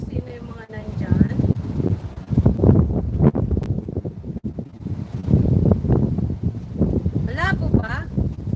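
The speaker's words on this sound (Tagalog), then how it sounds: "Mahangin eh." Gusty wind buffets an outdoor microphone in a continuous low rumble, rising and falling throughout, with someone talking over it and faint background sounds.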